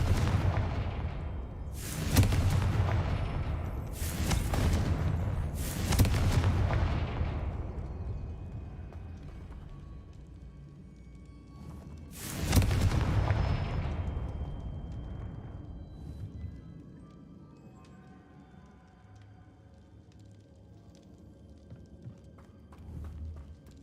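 Confringo fire spell blasts in the video game Hogwarts Legacy: four loud, booming explosions, three in quick succession then one after a pause, each trailing off into a long rumbling decay.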